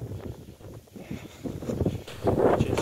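Strong hurricane-force wind blows on a cold day in a village, gusting and buffeting the microphone in uneven surges with some rustling, growing louder toward the end.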